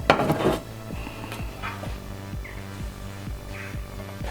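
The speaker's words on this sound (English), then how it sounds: "It's a cast iron pan." A cast iron pan is handled on a hot barbecue, with a loud metallic clank and rattle at the start. Soft, evenly spaced ticks follow over a low hum, close by and with no talking.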